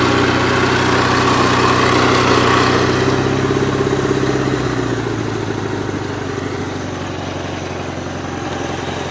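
A Gravely 8163-T garden tractor engine runs loud and close under load in first gear, a steady throbbing drone that shifts and eases partway through as the load drops off, with no talking.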